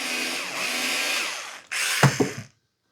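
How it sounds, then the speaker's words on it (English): Power drill driving a screw out of the underside of an InSinkErator garbage disposal, with a steady whine that cuts off, then restarts briefly and ends with a few sharp clicks and clunks, close and loud. "We've got to take this screw off right here."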